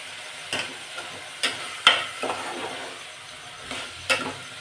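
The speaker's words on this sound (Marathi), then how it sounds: "आता हे हिरवे मटार सुद्धा टाकून घ्यायचे, परतून घेऊ 1-2 मिनिटं।" Green peas stirred and sautéed in a pan while making masala rice, with a soft steady sizzle and a few sharp spoon scrapes against the pan at irregular intervals.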